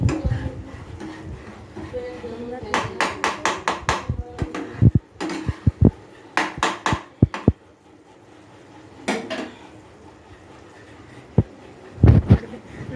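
Cubed paneer dropped into a cooking pan for shahi paneer, followed by a series of clattering knocks and scraping of a utensil against the pan, while someone talks over the kitchen sounds.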